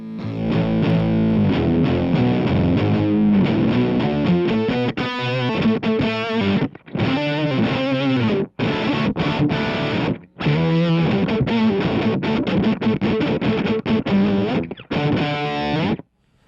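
A heavily fuzzed electric guitar through an EMMA Okto-Nøjs dual octave fuzz pedal plays a loud riff, with buzzy sustained notes that cut off abruptly into brief silences between phrases.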